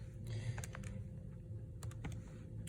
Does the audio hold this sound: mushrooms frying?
no